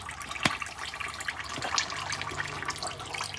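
Automatic transmission fluid drains from a 1954 Chevrolet Powerglide being removed, a steady liquid trickle and splash with a sharp knock early on, heard up close.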